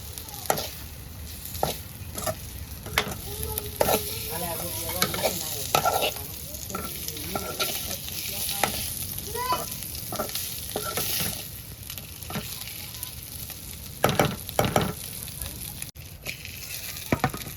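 Small fish frying in a pan while being stirred, a steady close sizzle broken by scraping and clattering strokes of the spatula throughout.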